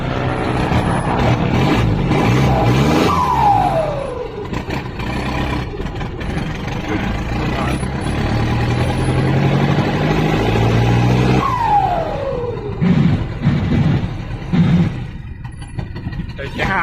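Car engine revving hard through a newly fitted exhaust pipe, with loud sustained roars and rising sweeps that climb in pitch, close by, while voices talk over the engine noise.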